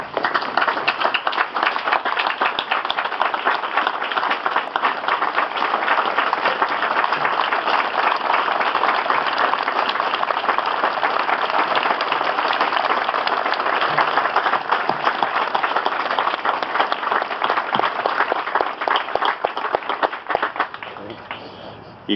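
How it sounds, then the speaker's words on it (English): Sustained applause and clapping from a large crowd giving a standing ovation at the grand opening ceremony of a traveling memorial wall in Faribault, dense and steady for the whole stretch before tapering slightly at the end. "let's do that with a standing ovation and a round of applause"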